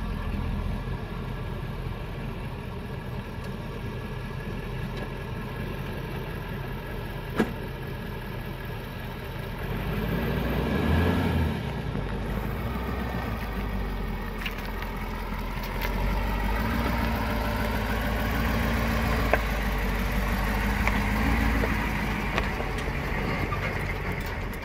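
A 2020 Ford F250 diesel truck pulls a 10,000 pound trailer, its engine droning steadily with a deep rumble that swells as it works harder, mixed with road and cabin noise throughout.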